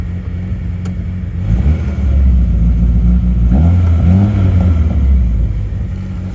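An MG Midget sports car engine idles loudly nearby, then revs up twice in quick succession, its throaty note rising and falling before settling back to a rumbling idle.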